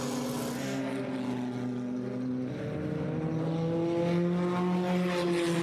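Race cars on a raceway circuit near turn 7, engines droning steadily with rising and falling pitch as they pass, continuous and fairly loud with no talk.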